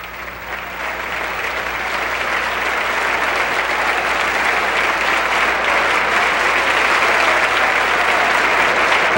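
Thunderous, sustained applause fills the US Congress chamber for Philippine President Corazon Aquino, a thick, even wall of clapping that swells slightly and holds without pause.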